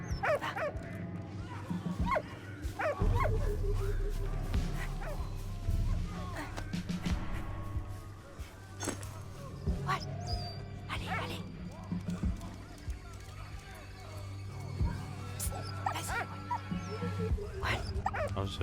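A dog in the World War I video game Valiant Hearts: The Great War whimpers and gives short yips and barks at intervals over a layered game soundscape, fairly close and clear.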